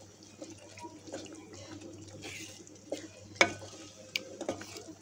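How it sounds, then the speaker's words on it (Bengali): Silver carp pieces being stirred in a cooking pan, soft wet scrapes and a few sharper clicks of a utensil against the pan over a faint sizzle and low hum, quiet and irregular. "এখন একটু একটু করে নাড়া দিব, নাড়া দিয়ে মাছটাকে রান্না করব।"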